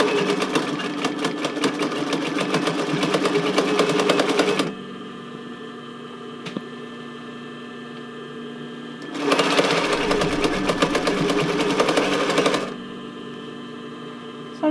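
A sewing machine running a zigzag stitch to attach elastic onto fabric hums in two close, steady bursts of rapid mechanical clatter, each several seconds long, separated by a quiet pause.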